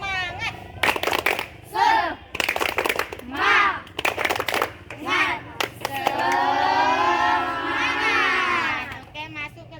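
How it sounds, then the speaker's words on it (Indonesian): A group at an Indonesian school performs a rhythmic spirit clap, with sharp bursts of clapping between loud chanted voices that end in a long, sustained group shout. "kita tepuk semangat dulu ya"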